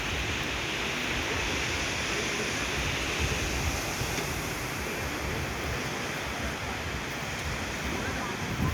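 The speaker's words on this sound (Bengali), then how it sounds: "এই হচ্ছে আমাদের সমুদ্র, খুব সুন্দর লাগছে দেখতে সমুদ্রটা।" Sea surf at Bagda beach at high tide makes a constant, loud, wind-buffeted roar of breaking waves that runs unbroken throughout.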